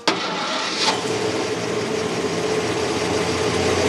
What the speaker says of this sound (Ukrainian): завели, мотор працює.